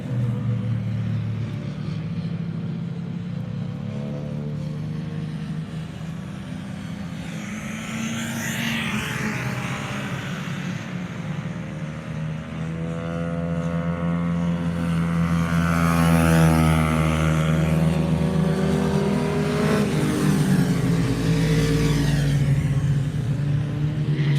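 Race cars lap the Radomring circuit, their engines rising and falling in long sweeping drones as they pass at varying distances, growing louder later, with no talking.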